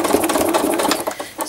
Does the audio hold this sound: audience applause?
no